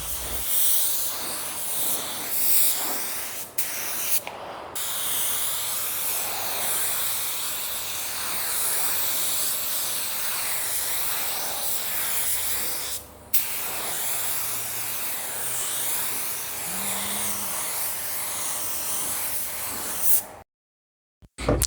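A budget spray gun lays a tri-stage pearl coat onto a Nissan Altima car panel, giving a steady, close, loud hiss that runs for about twenty seconds with two brief pauses before it cuts off.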